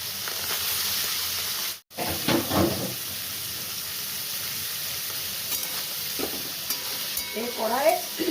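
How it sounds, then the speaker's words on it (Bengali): Prawns frying in oil in a kadai, a steady close sizzle with bursts of spatter and stirring scrapes, briefly interrupted by a cut, with faint background sounds but no clear talk. "এবারে চিংড়ি মাছগুলি আমি কড়াইয়ে দিয়ে দিলাম।"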